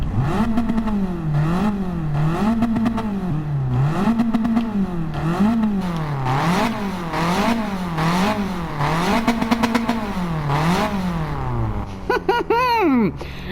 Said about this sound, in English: Listen to the turbo flutter.